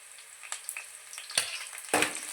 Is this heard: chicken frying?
yes